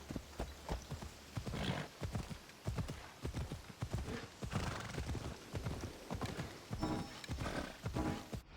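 Horse hooves clip-clopping at a gallop in Assassin's Creed Odyssey, a rapid rhythmic drumming of hoofbeats running continuously and fairly close, with a brief whinny-like sound mixed in.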